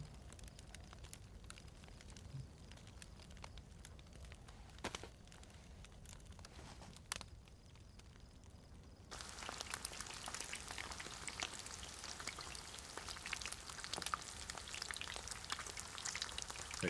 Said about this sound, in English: So it's now cooking, so the fire must be hot enough.